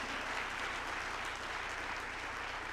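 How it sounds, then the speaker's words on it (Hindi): A crowd at an indoor ideological discussion event gives a burst of loud, dense clapping, a steady roar of many hands with no pauses, heard alone without speech. "ताली।"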